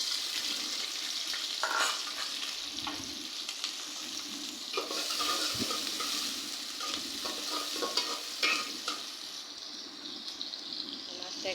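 A constant hissing sizzle of fish frying in a hot pan, with occasional soft clinks and stirring sounds over the steady crackle.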